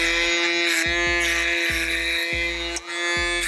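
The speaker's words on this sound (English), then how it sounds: "Really take the time with the foil shaver. Listen to the machine." An electric foil shaver buzzes steadily and close as it cuts hair during a skin-fade haircut, its steady hum dipping briefly at a few moments as it meets the hair.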